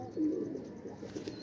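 Pigeons coo close by, a soft, low, rolling murmur that carries steadily through the short moment.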